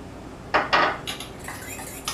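A spoon clinks and scrapes against a bowl while mandarin sauce with added pepper is stirred, a few sharp close knocks followed by lighter scraping.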